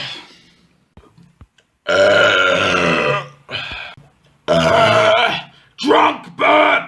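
A drunk man lets out several loud, drawn-out burps close to the mic, each a deep croaking groan with short pauses between them.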